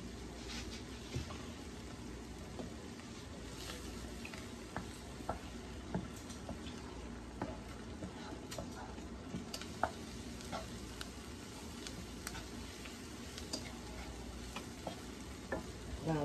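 Flour cooks in a pan for a seafood pot pie, giving a faint steady sizzle with scattered soft ticks and stirring scrapes throughout.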